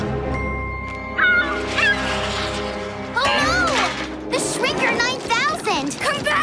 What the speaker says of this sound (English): The seagull is back.